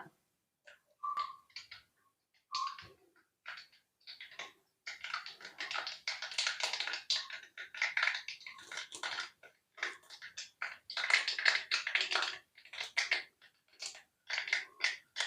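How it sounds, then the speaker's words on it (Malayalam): Rapid, irregular crackling and popping of mustard seeds spitting in hot coconut oil, close and fairly sharp, coming in dense bursts. "കടുക് എല്ലാം പൊട്ടി വന്നിട്ടുണ്ട്"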